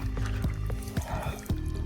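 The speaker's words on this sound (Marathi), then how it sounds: "तर बघा, थोडंसं लिकेज होतंय पाणी." Water leaking from a pipe on a farm, with close wet splashing and dribbling, punctuated by a few sharper splats over a steady liquid trickle.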